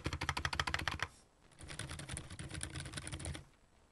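Fingers type on a quiet mechanical computer keyboard with silent tactile switches: a quick run of crisp, close keystrokes, then softer continuous typing trailing off.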